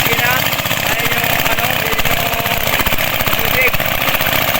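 Engine-driven pump moving water out of a tilapia fish pond during harvest, running as a steady loud mechanical drone with continuous rhythmic chugging, and voices talk over it.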